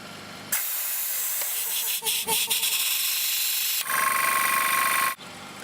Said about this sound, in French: au démarrage, l'air s'échappe par l'électrovanne et permet donc un démarrage plus aisé du compresseur